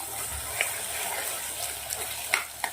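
Green chickpeas sauté in a pan with a ginger, garlic and chili paste, giving a steady close sizzle with a few light clicks of a spoon stirring.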